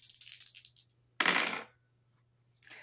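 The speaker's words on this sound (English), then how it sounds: "rolling the dice to see what I need to shuffle the deck to" A few quick rattling clatters of small hard objects tumbling on a surface, separated by brief near-silent pauses, with a faint low hum beneath.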